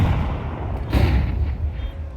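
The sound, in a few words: gunshot in a video game match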